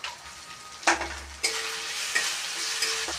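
Chopped tomato and spices, red chilli, Kashmiri red chilli, cumin, coriander and turmeric, frying in a pan, a soft steady sizzle with bursts of stirring scrapes, close and without talk.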